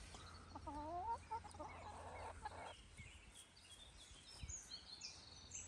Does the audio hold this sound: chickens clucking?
yes